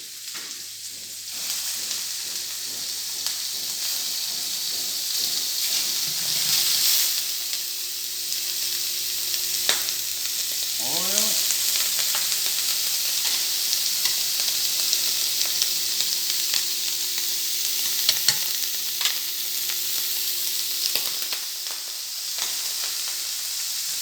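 Shrimps frying in a pan after being poached with paprika, a steady hiss and sizzle that runs throughout with occasional crackles and a brief scrape of stirring near the middle.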